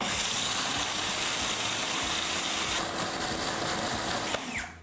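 A food processor blitzes ingredients for homemade chicken nuggets with olive oil, a loud continuous motor whir close by that runs steadily and then spins down at the end.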